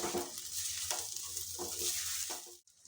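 Chili powder, salt and spices stirred in a frying pan for a shell-shaped snack, a steady hiss of sizzling with several spoon scrapes and stirs, close and fairly quiet, stopping abruptly near the end.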